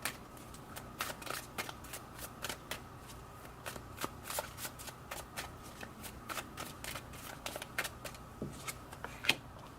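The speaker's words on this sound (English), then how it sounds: "Okay, now let me finish shuffling, then I'll explain" Tarot cards being shuffled by hand, a series of crisp riffling bursts with short pauses between, close and fairly quiet.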